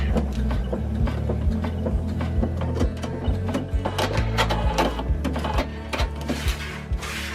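A sewing machine stitching the fringe of a delta kite, running in rapid mechanical bursts with clicking needle strokes, start-and-stop rhythm under a low motor hum.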